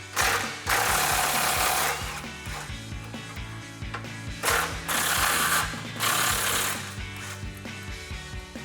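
A 13mm socket removes the exhaust hanger bracket bolts on a Bronco during cat-back exhaust removal, a continuous rattling, ratcheting mechanical buzz with a few louder surges, close and steady throughout with no talking.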